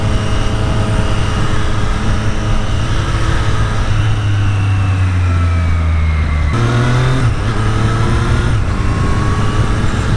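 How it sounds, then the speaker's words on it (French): Triumph Street Triple 765 RS 2023 motorcycle engine on its stock exhaust, loud and close, holding a steady drone then revving up with a sharp pitch rise midway and settling into a higher steady note, no talking. "Le bruit, même avec le pot de base là, c'est sympa."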